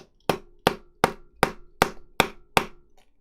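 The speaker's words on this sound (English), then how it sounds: "See if I can hammer it in." Seven sharp hammer blows land at an even, steady pace, close and loud, with a short ringing tail after each strike and no talking, driving a part into a Porsche 917 scale model.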